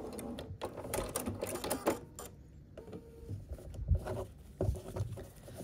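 A sewing machine stitches quilt fabric pieces in a chain, faint close bursts of rapid needle patter broken by short pauses, with a few soft thuds between runs.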